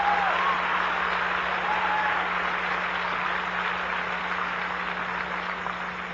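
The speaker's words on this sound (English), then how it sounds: "I don't know why you're clapping." A congregation applauds during a sermon, a sustained wash of many hands clapping at once that holds steady and slowly fades, with no voices over it.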